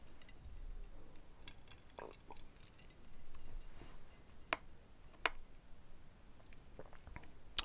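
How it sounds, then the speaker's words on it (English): Someone crunches on ice, giving a few close, sharp, irregular bites and crackles over a quiet background. "Crunching on ice, in case you're wondering about what that sound is."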